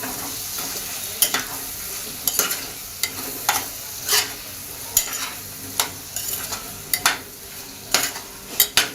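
Vegetables for Marwari-style khichdi sautéing in a pan, a steady sizzle broken by repeated sharp scrapes of a spoon stirring against the metal, close and fairly loud, with no talking.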